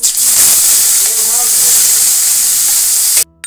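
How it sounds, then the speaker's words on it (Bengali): Chopped onions dropped into hot oil tempered with cumin, a bay leaf and a dried red chilli set off a loud, steady hiss and sizzle that carries almost to the end, then cuts off abruptly. "ছোট ছোট করে কেটে রাখা পেঁয়াজ কুচো দিয়ে দিলাম।"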